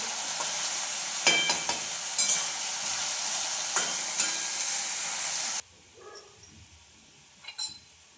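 Potatoes fry with curry leaves in a pan, a bright steady sizzle with a few clinks of a stirring spoon, then the hiss cuts out abruptly, leaving quiet scattered kitchen clatter.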